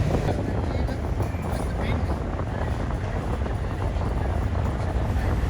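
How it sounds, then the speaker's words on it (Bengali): The passenger river launch MV Khan 7 travels fast at night on a river near Barishal, giving a dense, continuous rumble. Heavy wind buffeting on the microphone covers it. "আমাদের সামনে এমখান 7 লঞ্চটি এই মুহূর্তে খুবই দ্রুত ট্রেনে যাচ্ছে"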